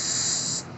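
Carburetor cleaner is sprayed through the jet of a Honda HRX217 lawn mower carburetor, a close, steady aerosol hiss that holds evenly for just over half a second and then cuts off.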